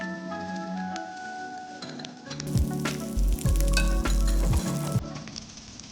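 Zucchini frying in a pan for pasta, with a soft sizzle that swells louder midway as pieces hit the hot oil, with a few utensil knocks and scrapes.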